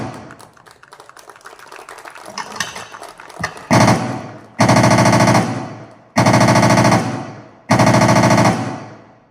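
Rifle fire from NCC cadets shooting in the standing position, heard as four loud, sustained bursts of rapid shots spaced evenly after a few seconds of quieter clatter and scattered thumps, with no talking.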